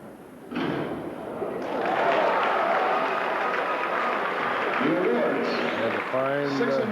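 Crowd at a high school boys' diving meet breaks into sustained applause after a dive, loud and steady, with a voice speaking over the clapping near the end.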